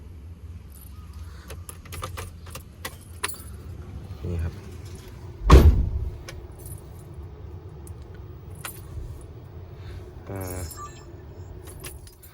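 Keys for a 2022 UD Trucks Croner PKE250HP jangle close by inside the cab, with scattered metallic clinks and one louder rattle midway, over a low background hum and a brief faint voice.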